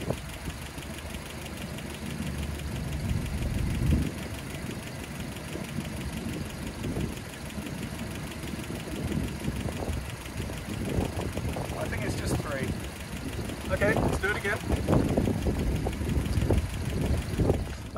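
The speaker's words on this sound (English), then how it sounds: "if it's still clacking a little bit" A Land Rover Series 3 engine idles close by with a steady mechanical rumble and faint ticking valve clatter, while someone talks over it for much of the time.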